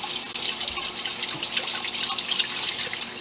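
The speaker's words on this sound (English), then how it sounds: "Let me rinse my hands." Tap water runs steadily into a sink while soapy hands are rinsed after soap making, a continuous close splashing hiss with small drips, no talking.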